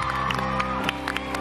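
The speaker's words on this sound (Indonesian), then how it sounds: "Ya, tepuk tangan." A talk show studio audience cheers and whoops with scattered clapping, a loud, continuous burst of excited voices over a steady hum.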